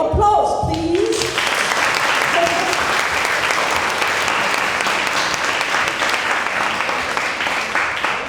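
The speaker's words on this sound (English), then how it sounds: "할머니 위해서 everybody great applause please." A voice speaks briefly, then a gathering honoring comfort women survivors bursts into loud, sustained applause for an elderly survivor about to sing, a thick continuous clatter of many hands lasting several seconds.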